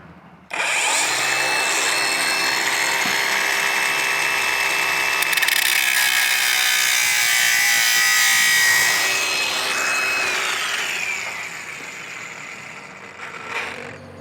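A saw cuts steadily through the end of a metal plastering trowel, a loud, continuous rasping grind lasting over ten seconds, its pitch slowly shifting as the cut nears completion, then tapering off.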